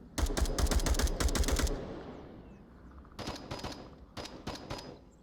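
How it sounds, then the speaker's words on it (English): Rapid bursts of automatic gunfire in the virtual reality shooter game Onward rattle loudly, pause amid a lingering rumble, then resume in shorter volleys. "Lots of gunfire."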